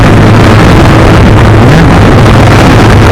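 Steady, loud low engine drone of a motorcycle on a winter test ride near Grafton, heavily buffeted by wind noise throughout with no clear gear changes.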